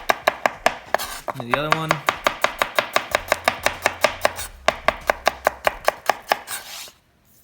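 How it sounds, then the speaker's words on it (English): Garlic being finely chopped with a knife for a Tuscan kale salad, a steady run of crisp, close blade taps on a cutting board, about thirty strokes at a brisk even pace, with a short spoken phrase briefly over the start. "We just want to get this garlic a little bit finer before we add it to the mortar and pestle, so just chop it up a little bit."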